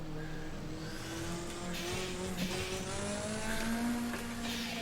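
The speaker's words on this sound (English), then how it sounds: "You can hear that turbo just working overtime there" A turbocharged race car from the DRM Revival Pack in Assetto Corsa drives hard, its engine note climbing and shifting under a high turbo whine, with continuous loud mechanical drone and no talking.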